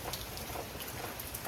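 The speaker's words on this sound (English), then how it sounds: "as you can hear in the background, it's currently raining." Steady rain falling outdoors, a soft continuous hiss with faint scattered drop ticks heard from indoors in the background, fairly quiet and unbroken, with no talking.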